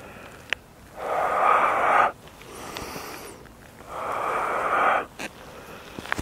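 Two forceful exhalations during an abdominal workout, each a rough, breathy push of air lasting about a second, near and fairly loud, separated by quieter breathing.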